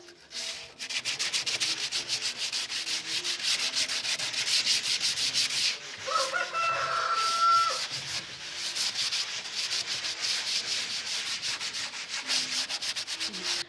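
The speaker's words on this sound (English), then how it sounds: "we need to use the P0 sanding paper to just smoothen out this top part" Steady, continuous rasping of fine sandpaper rubbed back and forth across the top of an old wooden cupboard, close and fairly loud, with a brief higher squeaky stretch midway.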